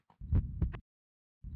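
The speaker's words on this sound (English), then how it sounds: "His heartbeat pulsed as soon as his fingertips touched it." A heartbeat sound effect in the visual novel Lamento: Beyond the Void gives a close, low lub-dub thump pair, then silence before the next beat begins.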